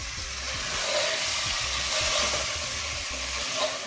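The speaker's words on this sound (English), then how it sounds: "I'm just cooking this meat in the oil and onion." Meat sizzles steadily in hot oil with onion as aloo gosht cooks, giving a constant close frying hiss with soft crackles and faint low clatter of stirring underneath, and no talking.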